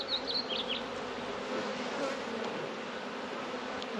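Honeybees buzz steadily around an opened hive during the first check of the season in February, a dense close hum with a few louder passes near the listener.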